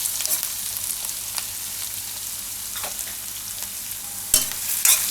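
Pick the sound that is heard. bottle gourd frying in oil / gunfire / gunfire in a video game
bottle gourd frying in oil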